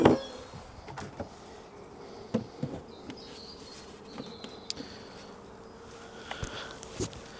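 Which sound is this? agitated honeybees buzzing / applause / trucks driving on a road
agitated honeybees buzzing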